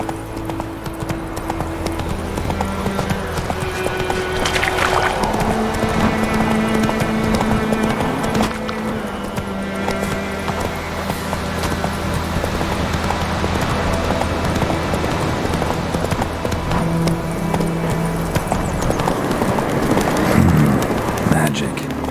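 Horse hooves clip-clop and gallop steadily throughout a ride in the video game Witcher 3: Wild Hunt, loud and close, with a brief spoken line over the rhythmic pounding.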